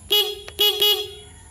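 Three short toots of a second-hand motorcycle's horn, loud and close, the first two quick and the third slightly longer, with brief gaps between.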